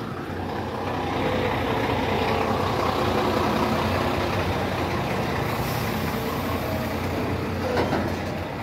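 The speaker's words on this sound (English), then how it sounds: "a lot of trucks are arriving here" Heavy trucks arrive at night in Malaba town, Kenya, their deep engine rumble rolling on continuously and fairly close, swelling slightly as they pass, with no voices over it.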